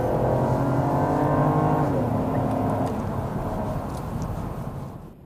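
A Volvo S60 R-Design in sport mode pulls hard under acceleration, its engine note rising steadily and loud from inside the car before easing off at the end.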